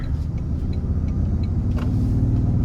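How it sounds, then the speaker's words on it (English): Engine of a 2023 Toyota Tundra Hybrid Capstone with a 3.4-liter twin-turbo V6 pulling under light throttle, a steady low rumble heard from inside the quiet cabin with no talk. "Give it a bit of throttle here."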